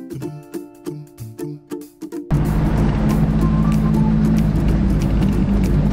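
A vintage Citroën Traction 11 climbs uphill toward Mont-Bart, its engine and road noise a loud, steady roar that starts abruptly after a short stretch of musical tones.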